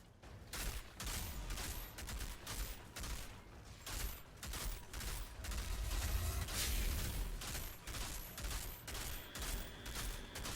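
Continuous rapid gunfire and turret shooting in Outriders Worldslayer, dense bursts of shots stacked over low booms and mechanical clatter, steady and loud with no pauses and no speech.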